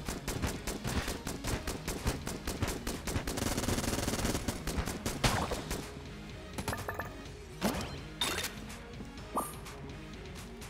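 Rapid volleys of gunfire from the Pox Cannon in the video game Enter the Gungeon, dense bursts of sharp shots early on thinning into scattered single blasts and impacts later.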